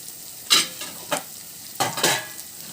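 Capsicum tossed and stir-fried in a hot pan for Hakka-style egg noodles, with a few sharp sizzling bursts as the peppers hit and are stirred, close and fairly loud with quiet gaps between.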